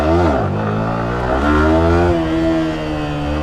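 A Yamaha R15 V4 motorcycle fitted with a quick shifter revs loudly and close by, its engine pitch dropping and climbing again through attempted gear shifts in one continuous, roaring run.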